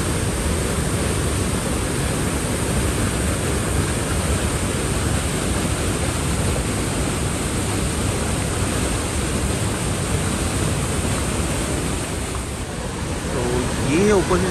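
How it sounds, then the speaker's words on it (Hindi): Kundal waterfall in Kashmir pours water down in a loud, unbroken roar, heard close and constant throughout, with a brief dip near the end. "साउंड चेक करें कि कितना साउंड है इस पानी का नीचे गिरते हुए।"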